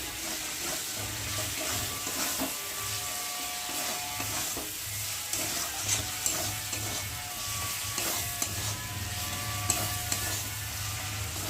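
Maggi ingredients with chicken sauce are stirred in a frying pan, giving a continuous close sizzle with a low steady hum beneath and light scraping of the utensil throughout, without any talking.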